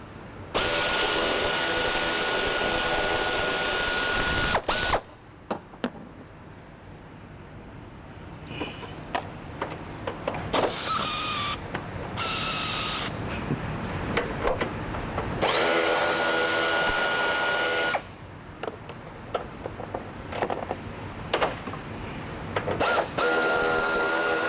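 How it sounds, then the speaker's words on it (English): A quarter-inch air ratchet with a 12 millimeter socket runs in loud, close bursts with rapid whirring, separated by pauses holding faint clicks and shop noise, with several long bursts near the end. "Quarter-inch air ratchet, 12 millimeter."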